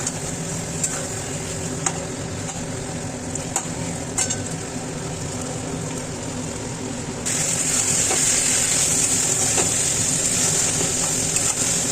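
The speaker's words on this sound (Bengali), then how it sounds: "চিকেনটাকে ভালো করে কষিয়ে নেবো।" Chicken sautéing in a pan with turmeric and salt gives off a steady, close sizzle that grows brighter and louder partway through, with occasional small scrapes and taps.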